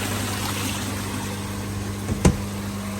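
Water pours steadily from the shower stage of a pond drum filter, making a constant close hiss with a low pump hum underneath, broken by one brief knock near the end.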